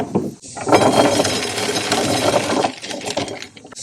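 A 70-year-old antique corn sheller working small corn cobs, a loud, dense mechanical rattle and clatter of kernels that surges and dips in bursts before fading near the end.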